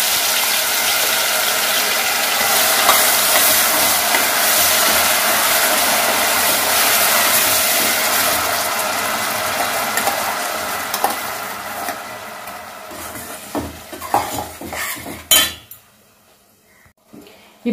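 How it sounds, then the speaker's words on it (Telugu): Masala and onion frying in oil for a Telugu-style fish curry: a steady, close sizzle with metal utensils clinking against the pan, thinning out toward the end with a few scattered clanks. "ఇప్పుడైతే ఇది వేసేసి వేయించేసుకుంటున్నాను."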